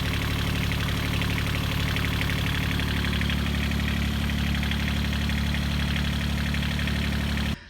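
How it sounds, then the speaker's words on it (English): Heard close up with the engine cover open, the inboard engine of a Moody 31 Mk 2 sailboat runs with a loud, steady, rhythmic diesel chug, ending abruptly. "whenever I open the engine cover and look inside while it's running, it's smooth"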